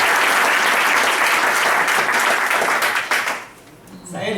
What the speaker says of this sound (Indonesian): Oke, tepuk tangan teman-teman.